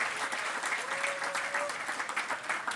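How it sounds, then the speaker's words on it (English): Audience at an open-mic comedy show applauding, a continuous wash of clapping and some cheering heard from within the room, moderately loud and sustained. "please give yourself a big effing round of applause"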